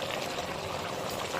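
Water is poured into a bowl to rinse it out while cooking a spicy mutton dish, heard as a short, steady close splash of liquid with no talking.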